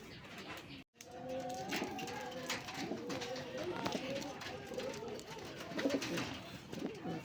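Local desi and Raj Golla pigeons coo softly and repeatedly in a loft, one bird sitting on its eggs, with low throaty calls overlapping under someone speaking nearby.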